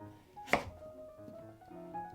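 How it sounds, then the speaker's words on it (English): A knife slicing the firm skin off a kabocha squash, a single short, sharp cut close by, followed by quiet background. "Slice off the firm skin."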